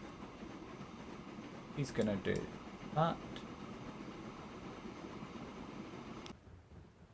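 A train rumbles past in a video game, a low continuous roll running under a short stretch of spoken commentary before the sound drops away near the end.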